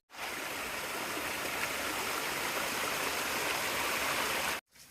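Water rushes down a steep, rocky mountain trail on Franconia Ridge along the Appalachian Trail, a loud, unbroken close-up streaming hiss that fills the clip until it cuts off abruptly at the end.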